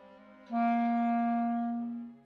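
One sustained clarinet C, held steady for about a second and a half before fading, played solo.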